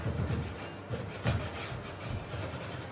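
Metallic umber Misty Paint rubbed in with a brush, a continuous close, scratchy rubbing sound made of repeated strokes that swell and fade in a steady rhythm.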